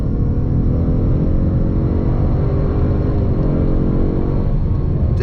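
A 2024 Ford Mustang with the 2.3 EcoBoost four-cylinder pulls hard in third gear, its engine a steady, loud droning hum heard from inside the cabin.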